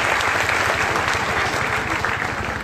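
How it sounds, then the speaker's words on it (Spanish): An audience applauds a university dance troupe at a student welcome event at Universidad Ricardo Palma, with dense, steady clapping that stays loud and unbroken throughout. "Renovados aplausos para el elenco de danza de la Universidad"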